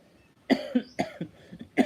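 A series of sharp, close coughs, four or five quick bursts in under two seconds, with no talking.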